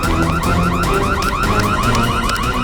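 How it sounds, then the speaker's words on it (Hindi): An alarm in a stuck lift rings loudly and continuously as a rapid warbling electronic siren that repeats in quick cycles with no pause. "ये अलार्म कैसा? लगता है लिफ्ट अटक गई है"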